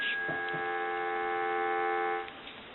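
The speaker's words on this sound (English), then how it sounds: "I want to give you some dial tone." A steady electronic dial tone from a Western Electric 302 rotary desk telephone hums continuously for about two seconds, then cuts off abruptly.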